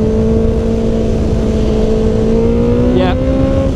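Honda CBR650F motorcycle pulling hard under acceleration, a loud steady engine drone with a rising whine heard up close, wind rush over it throughout.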